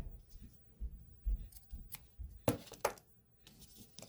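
Scissors cutting crochet yarn, a few crisp close snips near the end after quiet handling rustles, soft and isolated with no talking over them.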